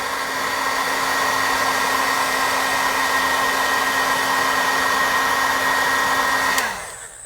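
A craft embossing heat gun runs with a steady, loud blowing whoosh and a constant hum, then cuts off near the end and winds down.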